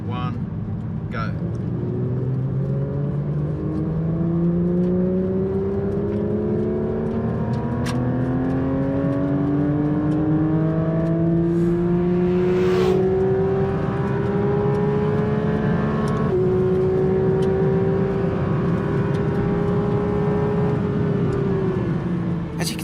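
Porsche 911 GT3 RS and GT3 Touring accelerating hard from a rolling start in third and fourth gear, engines wailing as the pitch climbs steadily, a layered rising howl that peaks and levels off near the end.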